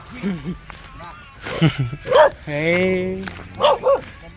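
Hunting dogs bark and yip in short bursts, with whining tones between, mixed with nearby voices talking.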